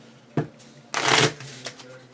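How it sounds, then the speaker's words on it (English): A deck of playing cards gets a quick shuffle during a tabletop card game setup: a short riffle snap, then a louder rushing flutter of cards lasting about a third of a second, close by. "Put them all back in, and we just do a quick shuffle."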